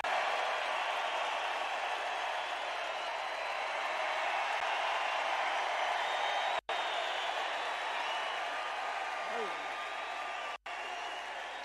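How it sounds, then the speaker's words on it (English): Sustained applause from a large rally crowd, steady and dense across the whole stretch, with a faint voice rising briefly near the end. "I don't think I've ever introduced anyone that got applause like he just got."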